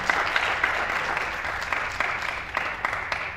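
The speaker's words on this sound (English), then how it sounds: "round of applause to them" At a school board meeting, the audience gives a round of applause, a moderately loud patter of clapping with a few sharper claps, continuing steadily throughout.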